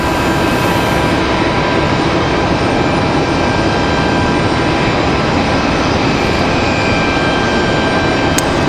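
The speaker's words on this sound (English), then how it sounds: "1 hour, 41 minutes of flight time for the A319, about to touch down here" An American Airlines Airbus A319 from Miami touches down at Raleigh-Durham International, a loud, continuous close jet roar with steady tonal engine whines that holds at full strength throughout.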